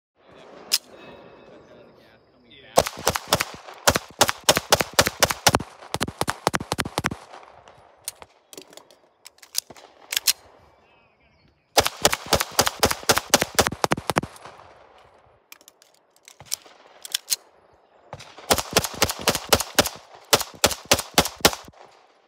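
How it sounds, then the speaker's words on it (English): Cosaint Arms COS21 pistol firing three magazines, with three loud bursts of rapid, evenly spaced shots separated by brief pauses and quieter handling noise. "that was the final test for the Cosaint Arms COS21. Just ran 3 mags through it"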